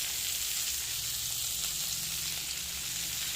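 Onion, garlic and tomato sizzle steadily in hot oil in a pan while cooking vegetable dalia, a continuous close frying hiss with no talk.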